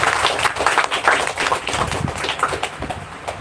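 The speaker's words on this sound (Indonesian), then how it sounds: "Tepuk tangan sekali lagi buat kita semua." A group of people clapping their hands together outdoors during fun games, a dense, continuous burst of overlapping claps close by, fairly loud and irregular throughout.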